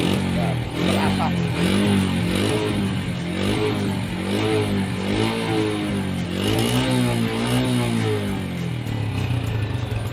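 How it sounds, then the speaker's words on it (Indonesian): A Honda Revo Absolute motorcycle with a smoking, oil-burning exhaust is started and left running, its close, loud engine idling with a rough, wavering throb and slight rises in revs throughout. "Di sini ada sepeda motor Revo Absolute. Ini saya starter"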